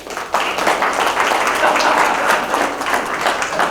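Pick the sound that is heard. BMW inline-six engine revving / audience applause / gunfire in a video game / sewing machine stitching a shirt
audience applause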